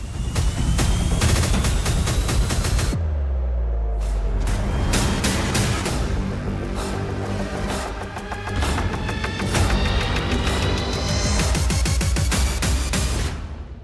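Dense volleys of sharp, loud bangs and blasts during an Iranian missile attack on Adana, Turkey, recorded by residents, with booms overlapping almost continuously for the whole stretch and no voices.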